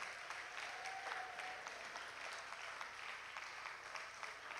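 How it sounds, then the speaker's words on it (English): A church congregation at a prayer and intercession workshop claps steadily together, a soft, even wash of many hands that keeps going without a break, heard from a distance. "Let's keep clapping for them."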